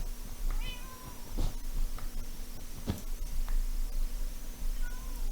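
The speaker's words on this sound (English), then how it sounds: "All those cats are in my way." Cats meowing in a jungle-themed building game, several short high meows scattered over a steady ambient hum and clicks, moderately close with no talk.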